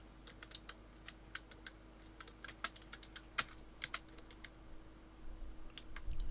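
Someone types on a computer keyboard during a Gems of War game session, producing soft, irregular clicks and taps in uneven clusters, faint and close, with brief pauses between runs of keystrokes.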